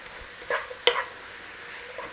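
Sliced onions with sugar caramelizing in a pan, a low steady sizzle with a couple of sharp scraping stirs of a utensil against the pan, close and without any talk.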